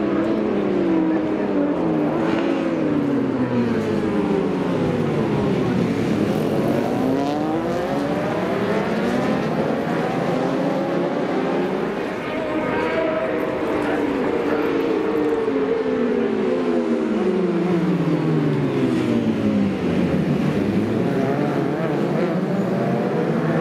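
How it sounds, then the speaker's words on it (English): Supersport motorcycles racing past York Corner at the NW200 road race, a continuous stream of high-revving engines rising and falling in pitch as bikes pass close by one after another, loud throughout. "We're now going to the Super Sport race."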